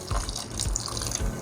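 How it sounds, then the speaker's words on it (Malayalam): Water pours into a pot of beef and tapioca curry as it cooks, a close, brief splashing flow with a few low glugs, heard alone. "അതുകൊണ്ട് ആവശ്യമുണ്ടെങ്കിൽ കുറച്ച് വെള്ളം കൂടി ചേർത്തെടുക്കണം."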